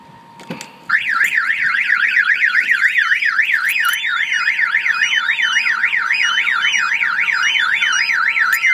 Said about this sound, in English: If somebody comes and opens the door, that will fire off the alarm.